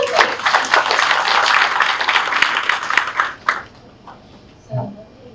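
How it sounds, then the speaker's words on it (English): An audience claps together in dense, loud applause for about three seconds, then it thins to a few scattered claps and quiet before a brief sound near the end. "I think you deserve a round of applause"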